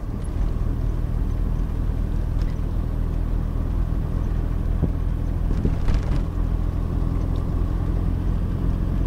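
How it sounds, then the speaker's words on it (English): A vehicle rounds a corner in third gear with a steady mid-range engine rumble and road noise. It sounds close and constant, with a few faint clicks and no voices. "I used 3rd gear to get around that corner"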